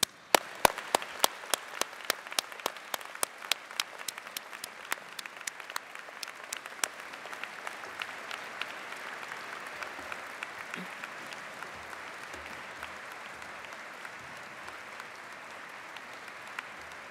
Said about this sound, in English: Graduates, please join me in applauding the support that they have given you over the years.